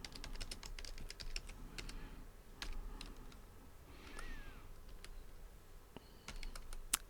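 Fingers type JavaScript code on a computer keyboard, quiet irregular clicks and taps in clusters with short pauses over a faint room hum, no talking.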